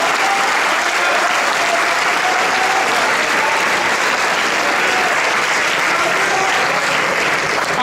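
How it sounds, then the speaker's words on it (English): Audience applause at a school awards ceremony, loud sustained clapping from a large crowd that stays dense and even for the whole stretch without a break. "Everybody, a round of applause to Mr. Shanaka."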